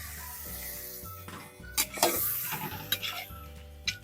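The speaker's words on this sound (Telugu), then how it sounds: "ఇప్పుడు 8 కిలోల చికెన్ వేసుకుందామండి" An 8 kg batch of chicken goes into a village-style curry pot and is stirred, with soft sizzling, scattered knocks of the utensil against the pot, and a few louder scrapes, heard close but fairly quiet.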